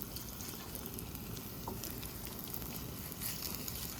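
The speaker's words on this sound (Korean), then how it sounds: "이 지글지글 소리가 비 오는 소리랑 비슷해서" A constant crackling sizzle of kimchi pancake batter frying in a hot pan, close and even, with faint scattered pops and no talking.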